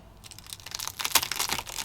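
Crisp crunching of a bite into food, a run of dry crackly bursts growing louder toward the end, close up with no talk.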